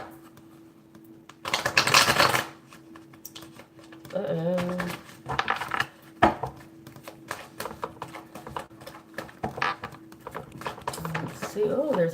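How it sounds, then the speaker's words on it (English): Tarot cards are shuffled in several bursts of rapid riffling and flicking, close and fairly loud, with a person speaking in between. "Let me pull some of my tarot cards here"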